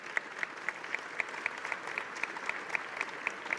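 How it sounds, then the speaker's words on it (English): Audience applause for a government innovation conference panel, a steady wash of many hands clapping from a moderately distant crowd, with sharp individual claps standing out in an even rhythm throughout. "a warm round of applause to our panel"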